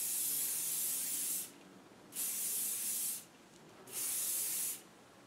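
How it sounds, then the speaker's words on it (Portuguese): Sebastian Shaper Plus hairspray is sprayed onto hair in three long hissing bursts, each about a second or more, separated by short quiet pauses, close and loud. "Eu venho com o spray."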